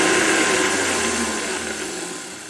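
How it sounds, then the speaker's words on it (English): An electric mixer churns granulated sugar into brownie batter, a loud steady whir that runs alone throughout and eases off slightly toward the end. "I just wanted to mix that granulated sugar in just a little bit before I added the brown sugar"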